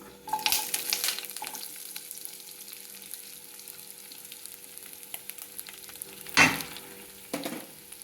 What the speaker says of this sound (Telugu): ఆయిల్ హీట్ ఎక్కింది. సో ఇప్పుడు ఆనియన్ పీసెస్, కరివేపాకు, పచ్చిమిర్చి కలిపి వేసేస్తున్నాం